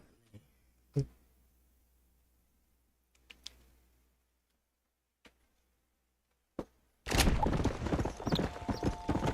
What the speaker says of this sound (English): como eu cavalgo um cavalo certinho